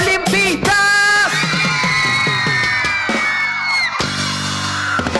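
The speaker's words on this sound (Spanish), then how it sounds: "Y por último, el grito de los olimpistas." A crowd of Olimpia football club fans yells and whoops together in a loud, sustained roar, with sharp bangs and cheering voices rising and falling.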